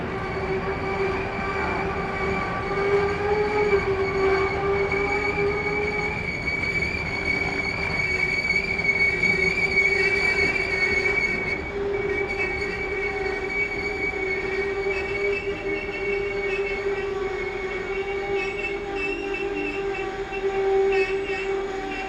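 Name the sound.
freight train passing through Peterborough station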